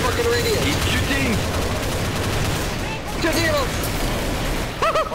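Heavy video game gunfire rattles in rapid sustained bursts, loud and close, mixed with layered game effects and whistling tones, while players shout over the shooting throughout.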